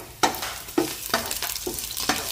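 Garlic frying in oil for Filipino pancit noodles, a close crackling sizzle broken by four or five rhythmic scrapes as a utensil stirs the pan, with no voices.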